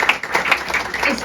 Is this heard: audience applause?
yes